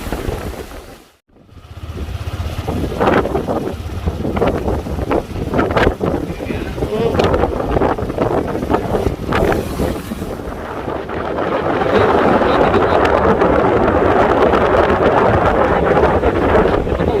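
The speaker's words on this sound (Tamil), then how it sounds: "காற்று எவ்வளோ வேகமாக இருக்குன்னு பாருங்கள்." Strong wind from the approaching Cyclone Nivar batters a coastal area, roaring and buffeting the microphone in a loud, continuous rush that grows stronger toward the end. Someone talks over it for much of the time.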